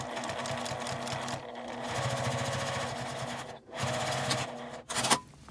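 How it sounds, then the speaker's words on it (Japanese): A sewing machine stitching a zipper pouch around a curve, a loud close mechanical whir running continuously, pausing briefly twice before a short final burst. "カーブのところはファスナーが浮きやすいので手で押さえて縫い進め"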